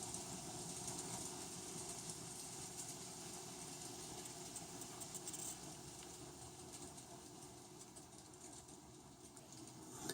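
A small model train locomotive motor hums and whirs steadily with faint clicking, a quiet continuous mechanical running sound with no voices.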